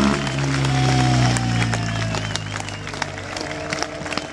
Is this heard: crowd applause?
yes